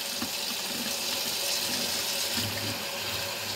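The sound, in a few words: water running from a tap while washing hands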